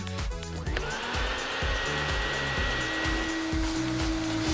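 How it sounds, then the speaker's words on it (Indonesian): A vacuum cleaner whines steadily after starting up, its motor drone continuous and fairly loud with a rhythmic bumping underneath. "Penyedot debu itu bisa membantu. Benda itu menyedot debu"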